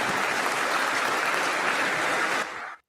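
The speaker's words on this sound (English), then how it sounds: "We can do without the clapping." Applause after a televised budget reply speech by Angus Taylor: a dense, steady wash of many hands clapping that cuts off abruptly near the end, with no talk over it.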